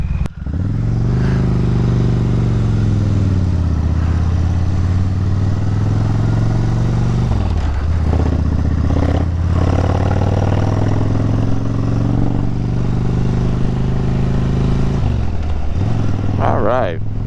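A Kawasaki Vulcan 1500 and a Harley Pan America ride on Maryland back roads, a loud, close engine drone with rising and falling revs across several gear changes, wind buffeting throughout and a rider's voice over it.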